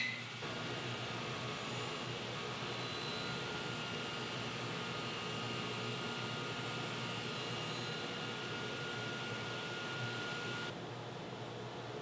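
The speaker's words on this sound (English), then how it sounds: "Then I'm gonna turn on my table saw and raise the blade up to that half inch mark." A table saw fitted with a dado stack runs in a workshop, giving a loud, steady whirring drone that holds evenly for several seconds before easing slightly near the end, with no voices.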